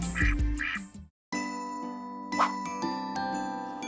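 Duck quacks in a television advertisement for a bath remodeling contractor, a couple of loud nasal calls at the start, then a break followed by bright chiming jingle music with a soft tinkle partway through.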